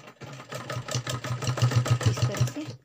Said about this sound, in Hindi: और अब इसे हम सिलाई मारेंगे जहाँ से हमारी जेब शुरू होती है